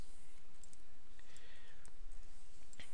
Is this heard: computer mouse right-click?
yes